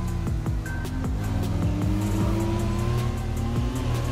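A Mazda RX-7 FD3S rotary engine in Assetto Corsa drones at high revs while overtaking a GTR on a touge road, with steady loud engine tone and repeated quick gear-shift pitch drops.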